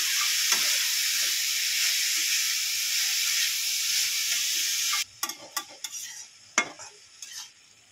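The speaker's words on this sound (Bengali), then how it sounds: "হলুদ দিয়ে দেবো। ভালো করে এটাকে আবার একটু নাড়িয়ে চাড়িয়ে নেব।" Vegetables seasoned with salt and turmeric are stirred in a hot pan, giving a steady loud sizzle for about five seconds, then quieter scraping and tapping of the spoon against the pan with short sharp clatters.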